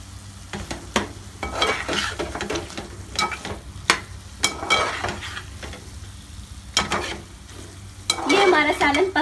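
Masala for anda bhurji stirred and sizzling in oil in a pan, with repeated scraping strokes over a steady fry; a brighter, louder sizzle swells near the end.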